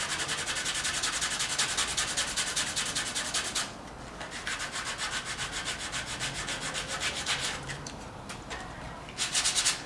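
Sandpaper rubbing steadily over a glued sculpture surface, a continuous close scratchy sanding with rhythmic back-and-forth strokes, briefly easing mid-way and near the end, with no talking.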